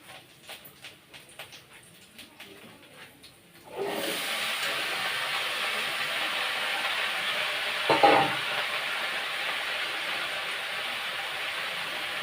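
Taro pieces tipped into hot oil with garlic already fried in the pan burst into a loud, steady sizzle after a few quiet seconds, with a brief swell of crackling partway through and no talking.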